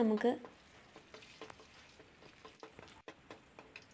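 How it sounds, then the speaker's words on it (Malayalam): Mustard seeds and curry leaves fry in oil with a faint crackling sizzle and light stirring noises, close but quiet, after a brief voice at the very start. "എണ്ണ ഒഴിച്ചിട്ട് കടുകിട്ട് കറിവേപ്പില ഇട്ട് വഴറ്റിയെടുക്കുക"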